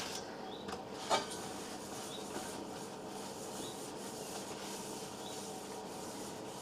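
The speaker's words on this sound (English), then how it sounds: "And just grease the tins up." Soft room-temperature butter is rubbed around the inside of cake tins for a Victoria sponge, a faint, continuous smearing scrape heard close up with no talking.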